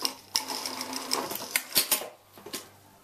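A sewing machine runs in short bursts and stops while stitching bias tape around a corner, its needle ticking rapidly and close, with pauses and small clunks between runs.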